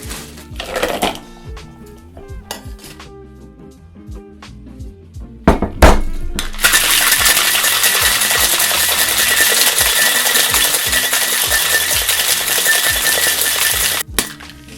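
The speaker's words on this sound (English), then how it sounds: "we can add some ice and shake this guy up for real." A cocktail shaker packed with ice is shaken hard for a whiskey sour, starting with a few clinks and thumps as ice is added and the shaker is closed, then a loud, steady rattle of ice lasting several seconds before stopping.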